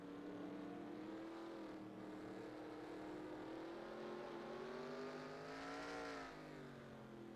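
Onboard engine of the number 25 race car on a figure-8 track in NASCAR Racing 2003, a steady loud drone that sweeps up and down as the car lifts and accelerates.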